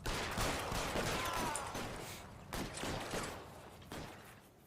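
Bursts of gunfire in the video game L.A. Noire, sharp reports in several clusters over a steady rumble of battle, fairly faint overall and fading in the latter half.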